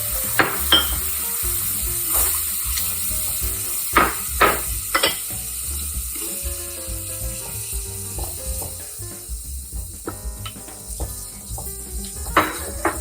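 Onion, celery and bell pepper sizzle steadily in a thick roux for shrimp creole, with a spoon scraping and knocking against the pot in irregular strokes.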